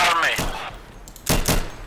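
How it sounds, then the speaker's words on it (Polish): Test gunshots fired in the video game Insurgency, a few sharp loud bursts, one early and a closer pair near the end, with brief voice sounds at the start. "Dajcie mi tylko zrobić testowe strzały."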